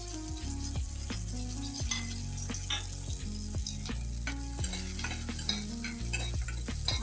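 Onions fry with peanuts and cashews in a pan, a steady loud sizzle punctuated by repeated scraping stirs of a spoon against the metal.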